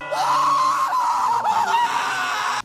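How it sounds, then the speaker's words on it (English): A sustained, loud, high-pitched anime character scream from the Eren voice acting, held steadily for over two seconds with slight wavering before cutting off abruptly. "especially like this scream where Eren like died the first time"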